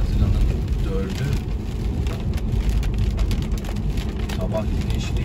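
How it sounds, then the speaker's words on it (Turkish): Light rain falling outdoors on Long Island in Port Jefferson, a steady close patter of drops on surfaces with a faint background rumble. "Şimdi ufaktan yağıyor yine."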